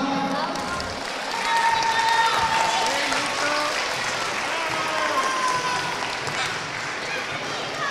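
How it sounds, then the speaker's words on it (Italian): Applause rises from a crowd at a children's minibasket Christmas tournament award ceremony as a young winner is called up, steady clapping filling the hall for several seconds with scattered voices and shouts mixed in. "Niccolò, eccolo qua, applauso"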